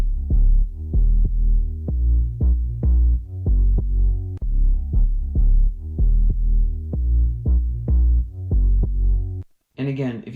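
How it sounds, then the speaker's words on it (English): A deep keyboard bass line for a looping layer pulses in repeated plucky low notes with a steady rhythm, loud and alone, ending with a short burst of other sound. "So the bass line would sound like this."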